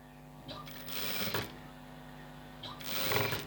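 A sewing machine stitches a blouse neck piece in two short bursts of rapid mechanical clatter, close by and separated by a pause, over a low steady hum.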